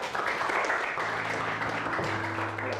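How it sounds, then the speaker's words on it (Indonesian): Steady audience applause fills a TV game show studio, a dense, even patter of many hands clapping throughout, with a low tonal hum beneath. "tepuk tangan dong, kasih semangat dong"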